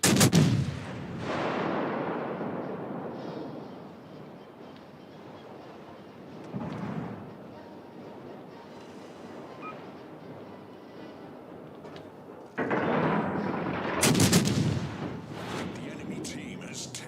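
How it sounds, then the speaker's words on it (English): Naval warship guns fire in a video game, a heavy opening boom followed by a long rumbling decay, then another deep blast and rolling rumble later, with voices talking faintly in between. "Concentrate fire on the enemy warship"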